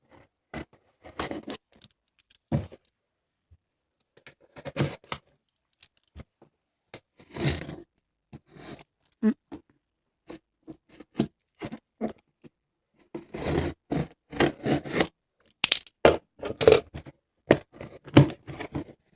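A Memebox cosmetics box is torn open by hand, with irregular bursts of ripping, crinkling and scraping packaging up close. Short pauses separate the clusters, and no one talks.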